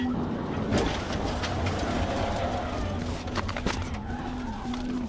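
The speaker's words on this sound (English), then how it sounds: "Trooper sent the Challenger spinning into a concrete barrier." A Dodge Challenger skids and spins after a police PIT maneuver, its tires screeching loudly with a sustained high squeal over the rumble of traffic, and a faint voice is heard behind the noise.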